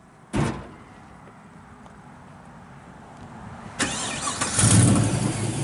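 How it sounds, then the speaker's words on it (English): A fuel-injected LS V8 in a restored 1953 Chevrolet 3100 five-window pickup cranks and fires up after a door thump, settling into a strong, rumbling idle through dual exhaust with stainless mufflers, close by and alone. "All fuel injected, fires right up."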